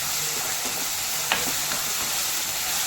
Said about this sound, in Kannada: ಈ ಶುಂಠಿ ಬೆಳ್ಳುಳ್ಳಿ ಪೇಸ್ಟ್ ಹಾಕಿದ ಮೇಲೂ ಕೂಡ ಚೆನ್ನಾಗಿ ಫ್ರೈ ಮಾಡ್ಕೋಬೇಕು